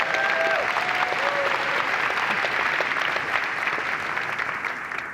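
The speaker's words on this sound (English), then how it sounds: "give a big applause to Harim." Audience at a Tableau Conference 2025 keynote applauds steadily for several seconds, a dense even wash of clapping from a large crowd that stays moderately loud and fades slightly at the end.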